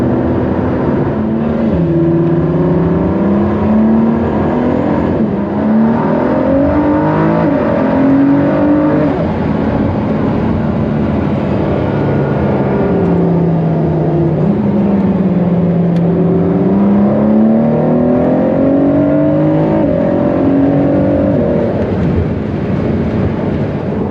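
A Ford GT sports car engine roars loudly and steadily from inside the car, its pitch climbing and falling repeatedly through gear changes as it accelerates, with constant road and engine rumble underneath.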